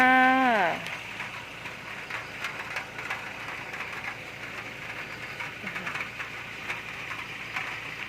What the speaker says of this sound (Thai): เนี่ยค่ะฝนตกค่ะ